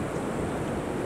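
Pacific Ocean surf at Playa Hermosa, Costa Rica, near where a river empties into the sea: a continuous, fairly loud roar of breaking waves mixed with wind buffeting the microphone.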